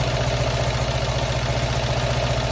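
A classic Fiat 500 engine idles at about 900 RPM during setup, a steady close, loud rhythmic putter with even pulsing and a constant hum, heard alone.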